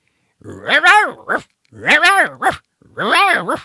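Person vocally imitating the bark of a New Guinea dog, three close, loud, yodel-like howling yelps in a row, a human voice doing the dog sounds.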